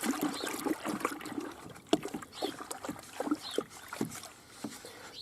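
Repeated sloshing and swishing of a bark-based liquid being stirred with a stick, with irregular splashy strokes close by and no talking.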